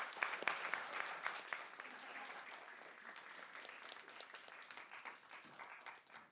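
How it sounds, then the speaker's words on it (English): An audience applauding the speakers at the close of a panel discussion, with steady, fairly faint clapping from many hands that continues throughout. "If we could give our speakers another round of applause"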